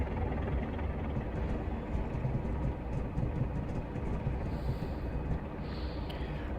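Class 37 diesel locomotive in Train Simulator Classic running steadily along the track on the London Waterloo to Portsmouth line, a continuous low rumbling drone with faint rhythmic clatter and no talk.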